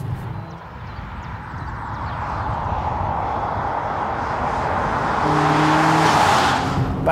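A 2019 Alfa Romeo Stelvio cruising on an open road, its steady engine note and tyre roar building slightly louder toward the end, with no talking.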